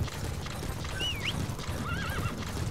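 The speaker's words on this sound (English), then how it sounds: "Now you can just break into a sprint again and call your horse." A horse in Metal Gear Solid V whinnies twice in short, wavering calls over a steady clip-clop of hooves trotting close by, with no talking.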